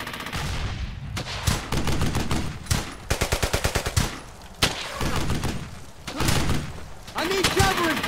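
Gunfire in the World War II shooter Brothers in Arms: Hell's Highway: repeated bursts of rapid automatic fire, one with a clear, even rattle of single rounds, mixed with thumps and battle noise. Voices shout under the shooting.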